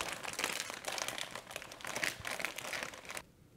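A gallon zip-top plastic bag packed with about five pounds of pork shoulder and a warm spice rub crinkles and rustles steadily as it is kneaded by hand, close up, before falling quiet at the end.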